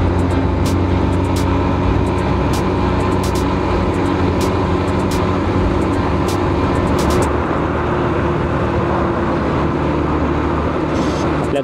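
Steady engine and road rumble inside a moving car on a road trip in Satara, India, a continuous low drone with faint ticking and no voices.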